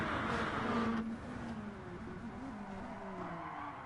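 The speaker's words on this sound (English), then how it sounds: "A huge lockup from Valve." Virtual race car in Gran Turismo Sport at the Nürburgring locking its brakes, a loud tire squeal starting at once and sliding through a sustained, wavering screech over engine drone that eases slightly after the first second.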